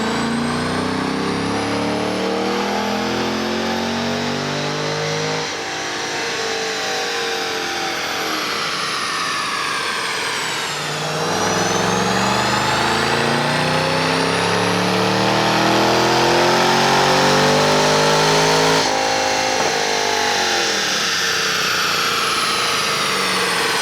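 A car engine revs hard on a dyno while running in reverse, a loud, steady, close drone that rises and falls through several long pulls.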